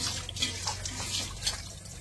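Running tap water while washing up after a meal in a simple village home, a steady diffuse splashing and trickling flow with no talk.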